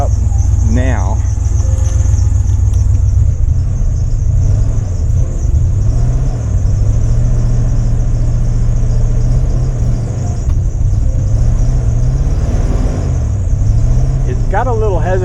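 A 1989 Ford F-150 engine revs unevenly up close, hesitating and popping with small backfires over a steady rumble, with insects chirping in the background and a voice talking over it.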